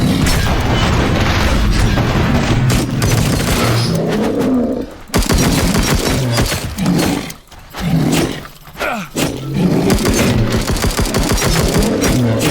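Rapid bursts of gunfire and heavy booms from guns in the survival game Dysmantle, loud and close, firing in dense volleys with brief gaps between salvos.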